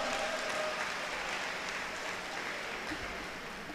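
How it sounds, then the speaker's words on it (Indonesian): An audience at a university ceremony claps steadily for nearly four seconds, a dense, even wash of applause heard close and loud. "Boleh tepuk tangan buat kita semua."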